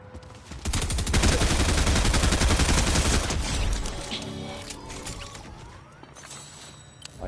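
A long burst of rapid automatic gunshots in Fortnite hammers loudly for a few seconds, then trails off into mechanical clanks and softer game effects.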